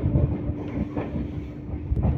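A MEMU train pulls away from Bethampudi Junction, giving a short, moderately quiet rolling rumble with faint rail clicks.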